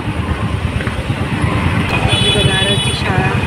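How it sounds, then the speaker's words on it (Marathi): Heavy road traffic on the route from Kharegaon to Airoli, a loud steady rumble of engines with horn toots and a passing vehicle's whine. "ट्रॅफिक लागलं."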